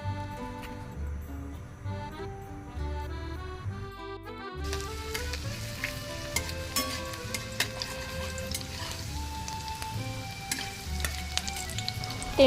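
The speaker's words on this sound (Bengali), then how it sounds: "এগুলো দিয়ে দিলাম, এগুলো একটুখানি ভাজা হবে" Chopped garlic, onion and ginger hit hot refined oil in a wok, turning into a loud, continuous sizzle after a brief musical intro.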